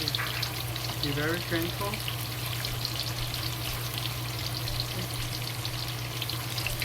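Tofu pieces fry in hot oil until both sides turn golden and crisp, giving a steady close crackling sizzle throughout with a low hum underneath and a short spoken line partway through.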